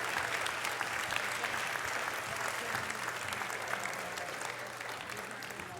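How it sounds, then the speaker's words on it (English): Steady, sustained applause from a large audience at a kids' Christmas performance, dense and even throughout with no voices standing out. "I know you've been clapping all morning, but one more."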